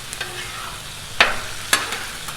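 Spatula scraping and stirring loaded taco fries with seasoning on a Blackstone griddle, a steady low sizzle broken by two sharp metallic scrapes, close and alone with no talking.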